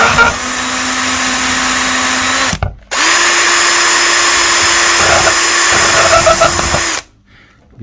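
A loud electric drill whirs steadily, stops briefly, then spins up again for several seconds before cutting off into near silence; used while refurbishing a Niewiadów N126E trailer wheel rim, the bit not gripping.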